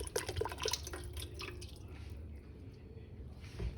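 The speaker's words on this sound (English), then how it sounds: "So I poured that whole cream in." Whole cream poured into a pot for Alfredo sauce, a continuous liquid splashing and dripping at close range that tapers off toward the end.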